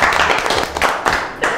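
A small studio audience claps during a talk show about music in Gabon, a loud, close burst of hand claps with uneven rhythm and brief swells.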